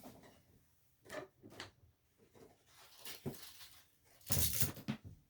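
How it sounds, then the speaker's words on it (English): A door is opened indoors in a series of faint knocks, clicks and rattling scrapes over a few seconds, ending in a louder rustling burst, with no talk. "I'm going to open the door."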